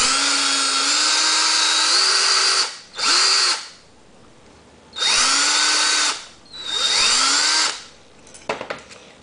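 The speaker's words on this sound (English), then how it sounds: "all you gotta do is start drilling away at these." Power drill whining in repeated bursts as it bores into a metal letter opener, rising and settling in pitch under load, three or four loud spells separated by pauses, close and with no talking.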